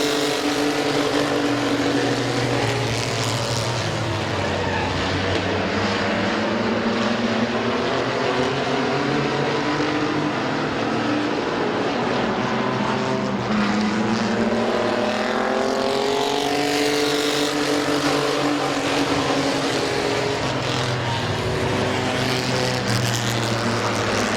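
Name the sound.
mini trucks racing at Midvale Speedway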